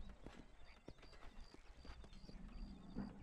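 Hooves of several horses clip-clopping in a Western video game near Armadillo, a busy, continuous patter of hoofbeats with faint snorting, layered over ambient game sound at moderate volume.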